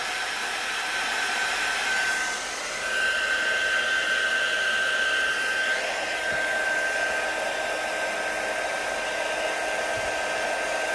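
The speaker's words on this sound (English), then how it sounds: "We're going with the heat gun again." A heat gun dries handmade accordion tags with a loud, continuous blowing hiss and a steady high whine, shifting slightly as it is moved, with no talking.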